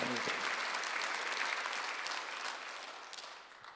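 Congregation clapping during a church Sunday worship service, a dense, fairly distant burst of applause that gradually tapers off over a few seconds.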